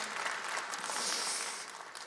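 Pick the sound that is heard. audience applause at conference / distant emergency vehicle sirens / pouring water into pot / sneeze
audience applause at conference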